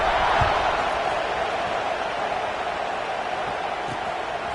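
A football stadium crowd at a Pitt at USC game buzzes in a steady, dense roar of many distant voices filling the air, with no single voice standing out.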